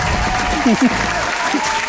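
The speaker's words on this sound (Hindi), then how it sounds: "तालियां।" Steady studio audience applause on a TV talk show, a dense continuous patter of many hands, with brief voices faintly over it.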